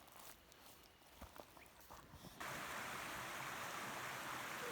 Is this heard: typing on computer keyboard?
no